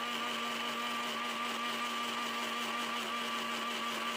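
A grinder blends coriander powder, cumin powder and turmeric with water into a paste, producing a steady, loud motor whir with a constant high whine that runs unbroken, with no voices.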